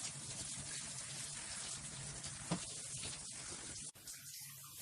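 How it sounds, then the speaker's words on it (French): Running water rinsing shampoo from curly hair, a soft continuous gush with faint splashes, low in level and cutting off abruptly near the end. "On rince."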